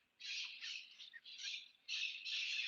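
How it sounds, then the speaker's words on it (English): A flock of birds squawking outside, shrill overlapping calls that form steady bursts of chatter with brief dips between them, moderately loud and without any talk. "the birds are here"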